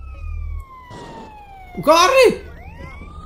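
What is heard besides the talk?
police sirens in GTA San Andreas video game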